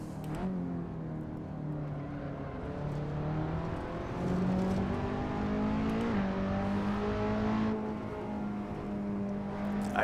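A Skip Barber Formula 2000 race car in Assetto Corsa at Laguna Seca Raceway drones with a loud, steady engine note that climbs and dips through shifts while chasing a car ahead, no voices.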